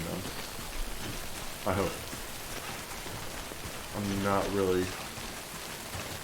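Steady rain falls in the video game Death Stranding, a continuous hiss throughout, with a person speaking briefly over it.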